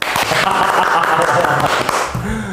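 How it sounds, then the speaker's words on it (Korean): A church audience at a Korean sermon program claps together, continuous mid-loud applause filling the room while a voice talks briefly alongside it. "우리끼리 박수나 쳐볼까요?"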